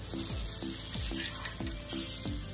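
Fish fries in a pan just after being flipped, a steady bright sizzle broken by regular scraping strokes of a spatula, close and moderately loud with no talking.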